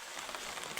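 Rain falls steadily outdoors during a monsoon outing in Dahegam, making a brief, even hiss of drops on surfaces.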